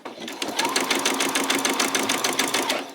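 A sewing machine back stitching fabric while making a peasant top, a loud, steady, rapid needle rhythm that runs close and continuous throughout.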